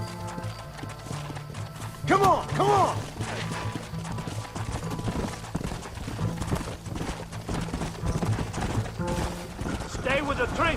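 A horse in the Red Dead Redemption video game clip-clops along at a gallop with a whinny near the start, its hoofbeats running under urgent shouted voices and other game sounds.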